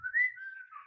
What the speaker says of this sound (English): I'm just like whistling